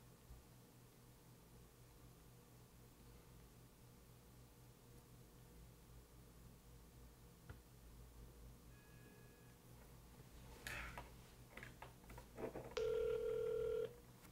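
A telephone call is dialed and rings out during a livestream, with faint tones and clicks emerging from a quiet hiss before a steady ringing tone near the end, heard alone without speech.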